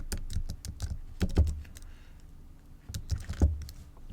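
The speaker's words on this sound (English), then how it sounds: "we just need to type it over here manually" Fast typing on a computer keyboard, close clusters of clicky keystrokes in two busy bursts with a short lull between, no voices present.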